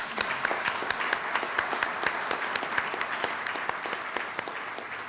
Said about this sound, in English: So can we give them a round of applause for that?